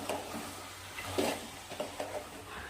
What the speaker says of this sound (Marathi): याला पण मिक्स करून घ्यायचं आहे